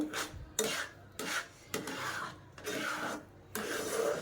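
Sugar and Kesari bhat are stirred in a pan with a spoon, making repeated rasping scrapes in steady strokes of about half a second each, close and moderately loud, with no talking.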